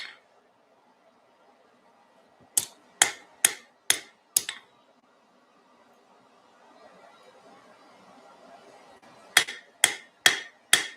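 Hammer striking hot metal during blacksmith forging, two crisp bursts of five rapid ringing blows each separated by a quiet pause, close and loud.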